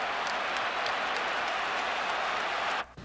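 A stadium crowd applauds and cheers loudly and steadily at the finish of a championship race, a dense wash of clapping that cuts off abruptly near the end.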